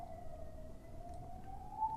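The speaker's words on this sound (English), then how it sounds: "There's a siren." A distant siren wails steadily and faintly under a low background rumble of traffic, its tone rising slightly near the end.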